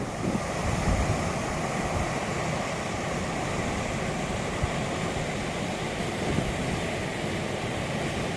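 Water of the Tyres River rushes along beside a walking track, a continuous broadband roar with a wind-like hiss at steady loudness throughout.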